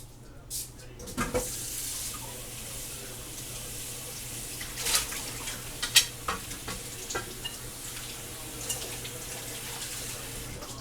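A canning jar lid held under a running kitchen tap, the water splashing in a steady rush with occasional clinks and knocks of metal against the sink.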